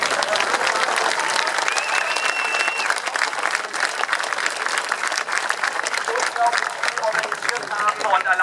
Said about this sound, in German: Die meisten Applaus an unser Team.